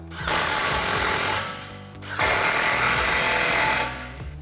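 Impact wrench with a 15mm socket tightening an exhaust clamp during a dual exhaust install on a Ford F-150, two loud, close, sustained power-tool bursts with a brief dip between them, no talk.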